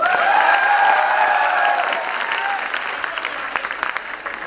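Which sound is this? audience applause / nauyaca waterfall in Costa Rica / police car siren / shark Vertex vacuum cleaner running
audience applause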